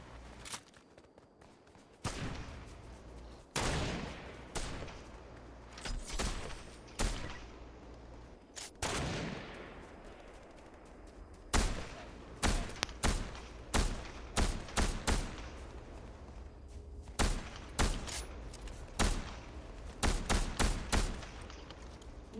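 Scattered gunshots in Fortnite ring out in sharp, separate bursts of varying loudness, some close and others further off, with irregular gaps between them and a busier cluster of shots toward the end.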